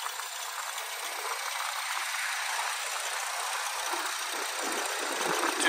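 A 2016 Chevrolet Equinox LTZ with a 2.4-liter four-cylinder engine and 133,000 miles idles steadily under an open hood, a continuous even hum with a faint rattle toward the end.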